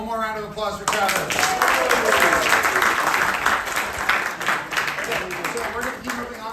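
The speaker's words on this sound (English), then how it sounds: "How about one more round of applause for Travis" Audience at a membership meeting breaks into a loud, sustained round of clapping after a brief bit of speech, then the applause tapers slightly toward the end.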